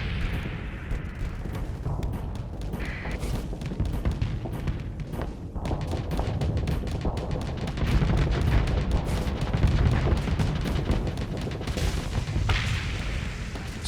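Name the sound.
assault chain gun firing in Starsector video game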